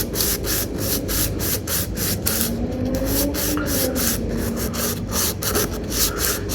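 Guitar nut being sanded by hand on abrasive paper, a close, loud rhythmic scraping rub repeating in quick regular strokes.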